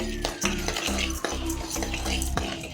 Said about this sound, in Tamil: கடலப்பருப்பும் ஒரு இருபது கிராம் அளவுக்கு தோரம்பருப்பும் எடுத்துருக்கிறேன் இதையும் சேர்த்து கொஞ்சமாக தேங்காய் எண்ணெயை சேர்த்து வறுத்து எடுத்துக்கலாம்